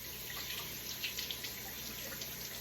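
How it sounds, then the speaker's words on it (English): Fresh ginger rinsed under a running kitchen tap, a steady close stream of water with small splashy bursts as the root is turned, and no talking. "rinse that off real good"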